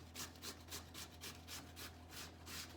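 Carrots and potato are grated by hand for an old-fashioned steamed carrot pudding, each rhythmic rasping stroke repeating about every quarter second, soft and close with no talking.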